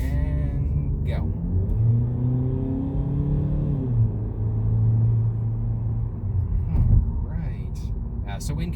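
A 2020 Ford EcoSport SES with a 2-liter engine revs up and settles, giving a steady droning rumble that rises and falls in pitch, close and fairly loud with a faint hum beneath it.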